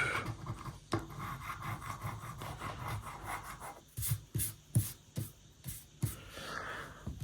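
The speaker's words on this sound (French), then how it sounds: "je vais gratter tous les mots en E pour les éliminer" Coin or nail scratching across a scratch-card crossword ticket, a steady dry rubbing rasp that breaks into several short sharp scrapes toward the end, close and fairly quiet with no talk.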